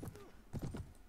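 Horse hooves clip-clop in the medieval combat game Mount & Blade: Warband, a faint quick cluster of muffled thuds.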